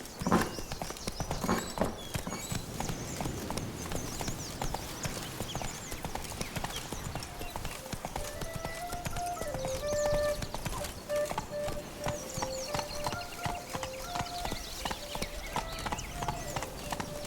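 Hooves of Roach, the horse in The Witcher 3: Wild Hunt, beat in a fast, continuous galloping rhythm, close and steady, with a short voice early on and faint music entering later.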